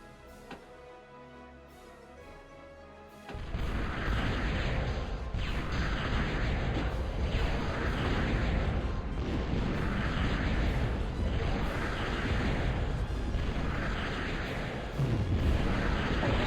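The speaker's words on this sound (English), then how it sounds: "Stop destroying my aircraft plant I just built." Rolling explosions from an aircraft plant being destroyed in the Total Annihilation strategy game, a loud sustained roar of repeated blasts that kicks in suddenly after a quieter opening and keeps pounding with a steady rhythm.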